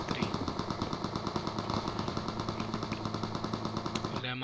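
UMP submachine gun fire in PUBG plays as one long, rapid, steady burst of shots lasting several seconds, then stops abruptly near the end.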